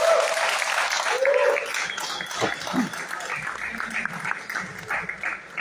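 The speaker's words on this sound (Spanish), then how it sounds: "Un aplauso, por favor." Applause from an audience at a rock talk during a writers' gathering in San Juan del Río, Mexico, a moderate steady patter of clapping with some voices and murmuring over it.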